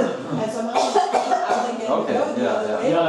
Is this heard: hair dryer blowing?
no